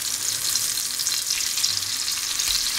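Fish roast cooking in a pan after the pieces are flipped, giving a continuous bright, dense sizzle with crackling oil, steady and close with no talking.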